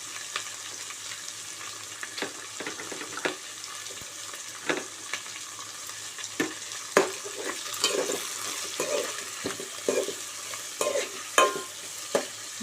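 Carrots fry in a pan for vermicelli upma, sizzling steadily while a spatula scrapes and stirs in repeated sharp strokes, with no one talking.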